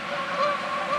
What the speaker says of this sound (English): I just found a random sample of some geese.